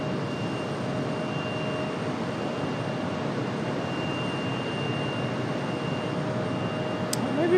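An American Airlines airliner in bare-metal retro livery arriving at Raleigh-Durham airport, a steady broad jet roar heard from a distance with a faint sustained tone, unbroken throughout and swelling slightly at the end.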